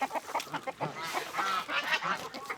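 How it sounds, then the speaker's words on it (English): Poultry on a farm clucking and calling in a busy, overlapping chorus, several birds sounding close by with steady squawks and honk-like cries throughout. "Let's go feed the chickens over here."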